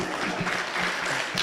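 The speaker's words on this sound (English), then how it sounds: "That is not how you clap for a moderator." Conference audience at an Africa security session applauding the moderator with a short, even burst of clapping in a hall, fairly dense and steady for a moment, no talk over it.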